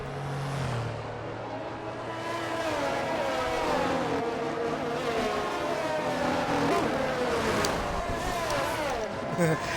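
Formula 1 cars in a racing video game at Australia, engines whining and shifting in overlapping high-pitched tones at a moderate level, with commentary voices talking underneath.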